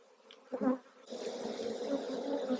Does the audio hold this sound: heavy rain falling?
no